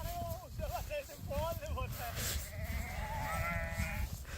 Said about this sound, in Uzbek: Voy, qo'ylarni ko'ringlar,